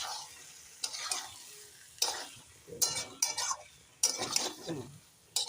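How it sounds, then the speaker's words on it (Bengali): A spoon stirs potato curry, aloo dum, dusted with garam masala in a pan, producing about six separate bursts of scraping and sizzling with quiet pauses in between and no speech. "গরম মশলা দিয়ে এখন নেড়ে দিই"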